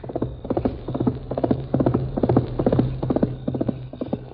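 Galloping horse hooves from a 1945 Lone Ranger radio drama, a fast steady clip-clop rhythm, loud and close, running throughout with a low hum underneath and no talking.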